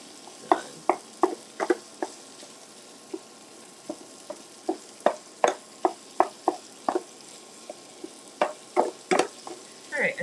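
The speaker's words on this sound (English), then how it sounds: "So I'm going to put the top on and just let it kind of sizzle." Crumbled ground meat for chili sizzles in a pan while a spoon scrapes and stirs it, producing a soft continuous frying hiss punctuated by frequent sharp scraping clicks, close and fairly quiet with no talking.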